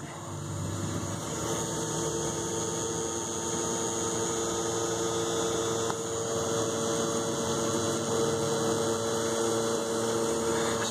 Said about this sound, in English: it's pumping. Turn the float off. Just go over to manual. Pumps it out.